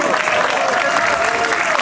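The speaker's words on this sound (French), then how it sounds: "On peut les applaudir." An audience applauds the winner of a troubadour singing contest at Gruyères, a dense, steady wash of clapping that holds evenly throughout with no voices on top.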